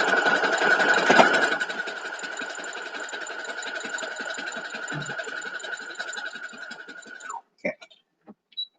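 A sewing machine runs steadily for about seven seconds, stitching sashing onto quilt 9 patch blocks at a quarter-inch seam, with a dense mechanical whir that stops abruptly and is followed by a few soft clicks.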